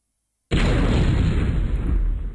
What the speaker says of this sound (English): Affected by airstrike.